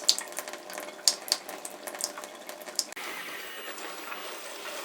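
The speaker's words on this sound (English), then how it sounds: "we just turn it open and wait for the antifreeze to come through. Now there's a lot of water in the line" Water runs out of a water line on an Eagle fifth-wheel RV during winterizing, a steady hissing splash with a few faint clicks early on, then a more even flow after a brief break.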